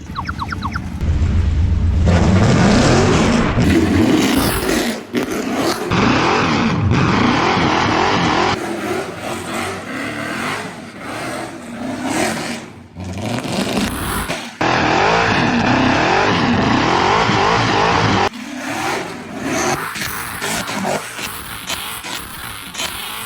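A Mercedes C63 AMG engine revs hard and repeatedly, rising and falling in loud bursts with occasional tire squeal, close by and without voices.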